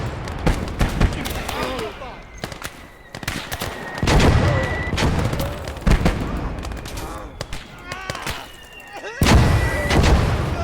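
Mortar and gunfire in a battle from the game Motherland: repeated booming blasts and crackling shots, near and far, overlapping in irregular bursts across the whole stretch.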